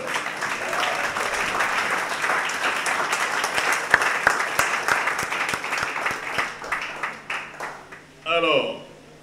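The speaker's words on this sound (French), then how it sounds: "Est-ce que nous pouvons faire une acclamation à notre Seigneur?" A church congregation at a Sunday service in Marcory, Anoumabo, applauds and cheers in acclaim, with steady dense clapping and voices mixed in, some sharper claps standing out before a short burst of cheering near the end.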